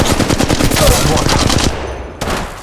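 Rapid automatic weapon fire in the Apex Legends Mobile video game, a loud dense burst of shots that cuts off abruptly, followed by a brief quieter pause and then more game noise.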